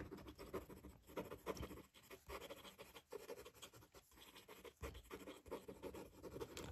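A fountain pen with a wet-writing Schmidt fine nib scratches quickly across paper in a steady series of soft, faint strokes and pauses, close and quiet with no talking.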